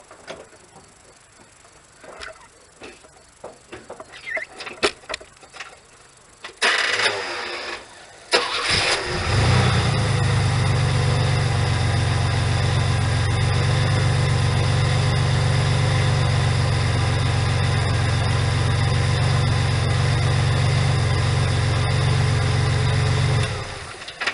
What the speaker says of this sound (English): you want to start the vehicle, make sure everything is good